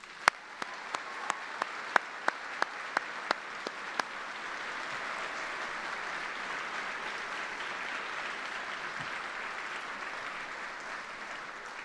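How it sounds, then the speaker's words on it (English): A crowd at a US Army retirement ceremony breaks into sustained applause, with a few sharp individual claps at first, then a steady, dense wash of clapping throughout. "Please join me in a round of applause for all Army families."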